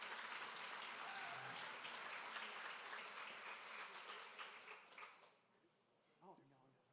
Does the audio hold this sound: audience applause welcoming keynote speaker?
yes